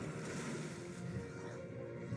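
A water wave attack effect from the video game Dragon Mania Legends: a brief, steady rushing whoosh like surf, fairly quiet and heard alone.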